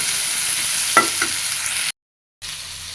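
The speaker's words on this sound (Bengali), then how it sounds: "এটা কষায় নেব।" Spiced food fries and is stirred in a pan with salt, turmeric, cumin powder and a little chili powder: a steady close sizzle with a couple of scraping stirs, cutting out briefly before resuming.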